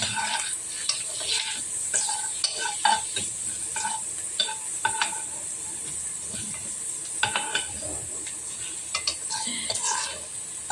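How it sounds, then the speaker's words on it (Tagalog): An egg fries in a pan with a steady hiss, broken by frequent sharp clicks and scrapes from a utensil stirring against the pan. "giprito kong itlog"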